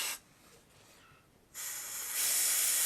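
Compressed air hisses from a rubber-tipped nozzle to drive a piston out of a brake caliper: a short burst, a pause, then a loud, steady, strengthening blast of air alone, close by.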